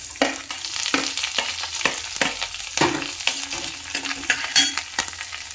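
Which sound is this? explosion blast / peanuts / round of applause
peanuts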